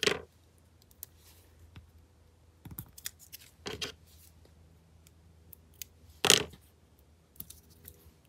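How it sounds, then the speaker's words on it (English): Scissors snip through card stock at a crafting table, a handful of crisp, separate cuts with quiet gaps between them, close and fairly soft. "I think I need to cut one in half for that part."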